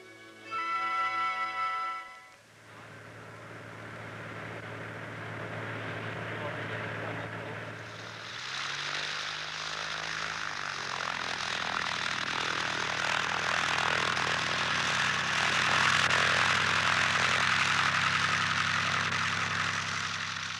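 A propeller aircraft arrives over a mountain village high in the Owen Stanley Range, its engine drone swelling gradually from distant to loud and steady; a brief spoken phrase comes at the start.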